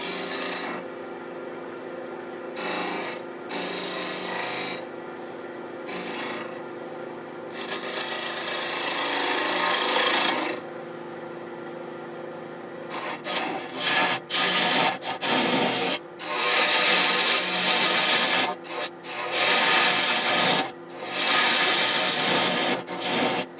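Wood turning on a Powermatic lathe, a tool scraping and rasping against spinning wood in repeated passes, close and loud with brief pauses between cuts.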